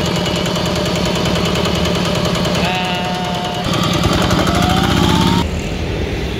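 A Kubota ER40-1 diesel engine runs steadily nearby with a loud, continuous rhythmic chugging and knocking that holds throughout, its pitch shifting slightly partway through.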